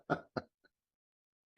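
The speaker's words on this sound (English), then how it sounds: "I love making him cough." Two short, sharp coughs close up, followed by a tiny click and a brief breathy sound after a pause.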